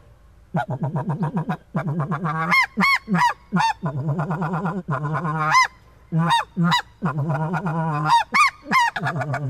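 A snow goose call imitated by a person on an Illusion Snow/Blue Goose Call, a rapid run of gabbling honks and sharp barks in quick bursts, loud and close with no talking.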